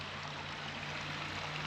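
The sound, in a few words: spring water trickling out of ground at natural spring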